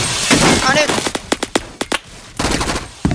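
Revolver gunfire in a video game, a burst of sharp, loud shots in quick irregular succession, some clustered and some spaced apart, with excited voices between them.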